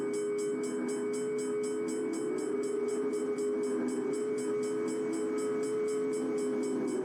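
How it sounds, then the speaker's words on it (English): Steam locomotive running in the Train Simulator 2021 game on the Peninsula Corridor route, a steady droning rumble with a rapid, regular clicking chuff layered on top, continuous and even throughout. "Might as well just get the steam engine going by the crossing"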